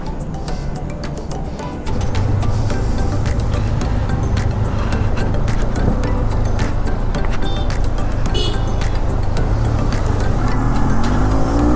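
Benelli 502C cruiser motorcycle riding on the road, a steady loud engine drone with wind rush that steps up in level after a couple of seconds and holds continuously.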